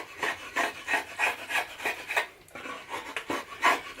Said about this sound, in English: It's just cutting really nicely with the draw knife.